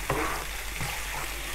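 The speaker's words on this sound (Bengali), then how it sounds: "দিয়ে এটাকে একটু মিশিয়ে দিচ্ছি, আর আঁচটা আমার এখনো মাঝারিতেই আছে।" Turmeric and chili powder stirred into hot oil over medium heat for a rohu fish kalia, a steady sizzle with soft scraping of the spoon, close and continuous without talk.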